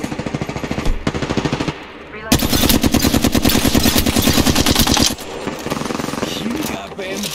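Fully automatic weapon fire in the battle royale shooter Apex Legends, a long rapid rattling burst of close, loud shots, with shorter bursts before and after and a voice speaking among them.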